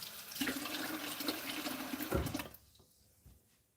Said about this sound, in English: Give it a rinse like this.